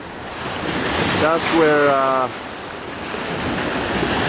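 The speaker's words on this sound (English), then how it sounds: "whoa, here come some waves" Ocean waves wash onto the shore at Shimizu at sunset, a steady near rush of surf with wind buffeting the microphone and a brief voice rising over the noise midway.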